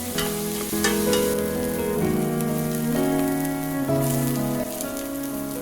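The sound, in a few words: sautéing onion, garlic and ginger in olive oil in soup pot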